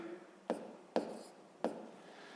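Pen or chalk tapping and scratching as a math solution is written out, three sharp, separate strokes with short rubbing tails in a quiet room, no talking.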